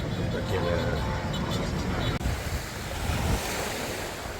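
Sea waves break along the coast of Phuket island by the Siam strait, a steady, loud wash of surf mixed with gusty wind buffeting the microphone throughout.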